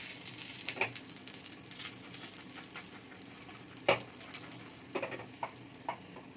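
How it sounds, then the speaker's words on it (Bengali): Vegetables for lau shak chorchori, made with bottle gourd greens, frying in oil in a pan, giving a soft steady sizzle broken by scattered sharp crackles and pops. "লাল লাল করে ভাজতে হবে"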